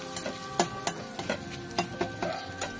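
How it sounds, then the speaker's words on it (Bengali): Asafoetida frying in hot oil with fennel seeds as a tempering for lentil dal, giving a soft, steady sizzle broken by sharp irregular crackles and pops close by, with no talking. "হিংটাও একটু ভাজা ভাজা হবে।"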